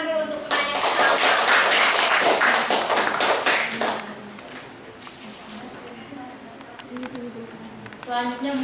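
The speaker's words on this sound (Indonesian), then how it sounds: "tepuk tangan dulu untuk penanya pertama" An audience gives a short round of applause for the first questioner at an indoor class or seminar, a burst of clapping and tapping that fades after a few seconds, leaving a quieter room with light talk.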